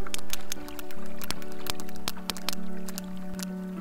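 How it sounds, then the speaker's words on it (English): Sperm whales exchange coda clicks underwater, with sharp broadband clicks arriving in irregular clusters over a low, steady tonal hum and faint sloshing background. "those clicks you're hearing right now, that's the sound of sperm whales conversing. They're called codas."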